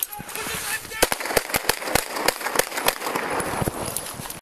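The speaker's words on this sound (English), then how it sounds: "forcing others to discharge their firearms 10 times" Police officers fire their guns about ten times in quick irregular succession, sharp close cracks with shouting voices underneath.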